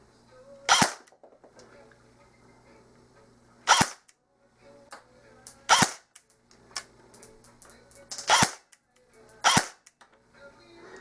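An airsoft AK47 fires 0.20 g BBs through a chronograph on a workbench, giving five sharp, close single shots spaced a second or two apart in an otherwise quiet room.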